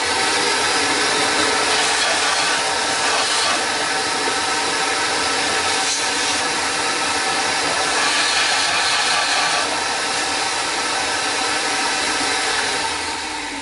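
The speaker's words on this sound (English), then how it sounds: "We can possibly sand that up now" Sanding a turned wooden vessel held with a steady rest produces a continuous, loud, hissing rush that holds evenly for the whole stretch without pause.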